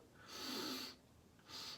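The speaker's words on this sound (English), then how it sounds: "As we get a sniff." Someone sniffs tallow up close, two breathy inhalations with a short pause between them, soft and quiet.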